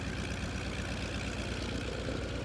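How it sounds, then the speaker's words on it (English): F4U Corsair aircraft engine in archival footage, a continuous low, pulsing rumble with a steady throb, fairly even in level and heard alone without voices. "Boyington shut down his rumbling engine"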